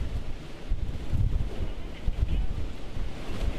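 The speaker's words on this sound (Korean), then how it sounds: "이곳 제주 법한포구에는 갈수록 바람이 세지고 있습니다" Strong typhoon Soulik winds roar across the microphone at Beophwan harbor on Jeju, with surf pounding the coast underneath in a continuous, loud, buffeting rush.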